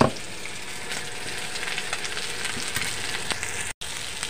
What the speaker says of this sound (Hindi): पिसी हुई मसाले को ऐड कर दी है। अब इसे अच्छी तरीके से भून लेती हूँ फटाफट।